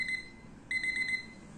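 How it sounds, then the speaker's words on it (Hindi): A digital kitchen timer sounds its time-up alarm: two bursts of rapid, high, piercing beeps separated by a short pause, heard fairly quietly against a faint room hum. "जो मैंने 1 मिनट का टाइमर लगाया था वो अब कम्प्लीट होने वाला है"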